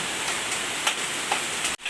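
Heavy downpour on a house, a steady broadband wash of rain with a few distinct drop taps, cutting off abruptly near the end.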